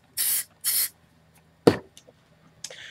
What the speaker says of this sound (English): Now you can probably notice and hear the rhythm of the sprayer as I spray.